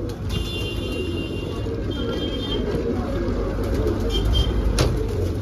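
Pigeons offered for sale coo softly under a constant low rumble of nearby traffic, with a few faint chirps and a sharp click breaking through.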